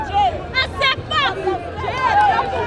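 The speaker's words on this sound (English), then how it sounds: "I'm sure you can hear the crowd right now with the bench." Crowd and team bench cheering at a school netball match, Grenada versus Dominica, with excited shouts and yells rising and falling in quick bursts over general hubbub, close and lively throughout.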